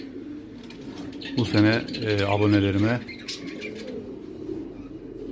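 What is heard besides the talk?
male pigeons cooing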